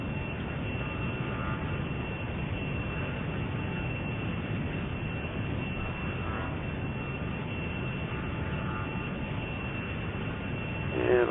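An A-10 jet in the Flaming Cliffs flight simulator drones past on a flyby. The engine roar is steady, broad and continuous, with a thin high whine on top, and it holds at an even level throughout.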